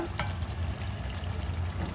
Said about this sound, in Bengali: এরকম করে আস্তে আস্তে ধীরে ধীরে কষিয়ে কষিয়ে আমি রান্নাটা করবো